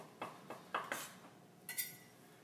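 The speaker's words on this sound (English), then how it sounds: "I'm using a chopping motion now because I'm using my small santoku knife" A small santoku knife chops on a cutting board, five or six sharp separate knocks in an uneven rhythm, close and fairly quiet, with no talking.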